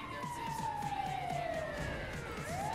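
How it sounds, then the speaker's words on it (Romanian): A police siren in GTA 5 wails steadily with a falling, sweeping tone, loud and continuous, over a low rhythmic pulsing background. "Eu tot aud aici sirene, dar nu ne ajută nimeni"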